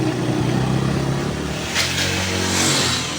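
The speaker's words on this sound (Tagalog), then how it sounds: "Angas ang dalawang motor na to." Two motorcycles rev on a street, producing a short, close, loud burst of engine roar that rises and falls, with a bright, swelling rev near the end.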